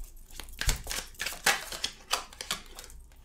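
Tarot or oracle cards being shuffled by hand, a run of crisp riffling and slapping bursts in an uneven rhythm, close and fairly loud, with no talking.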